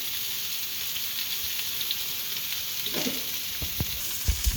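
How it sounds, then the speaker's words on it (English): Food stir-frying in a very hot pan gives a steady close sizzle and hiss throughout, with a few louder clatters of stirring near the end and no talking. "That immediately starts to shimmer because that pan's really hot. and we'll just stir fry that for a while."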